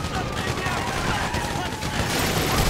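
Dense, continuous gunfire from a heist shootout in the GTA V video game, rapid overlapping shots forming a loud sustained barrage with no pauses.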